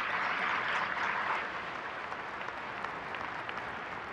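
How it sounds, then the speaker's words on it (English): An audience at the HP Discover business conference general session gives a round of applause, loudest in the first second and a half and then tapering to a softer, steady patter of clapping. "So I want to give Charlie a round of applause"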